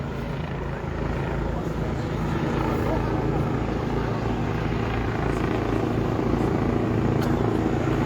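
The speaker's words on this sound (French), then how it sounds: "J'espère qu'on a réussi à tout entendre avec le bruit de l'hélicoptère." A Eurocopter EC145 twin-turbine helicopter flies overhead near the French-Spanish border during a farmers' blockade, its deep, rapid rotor thudding and turbine whine filling the air while someone talks close by over the noise.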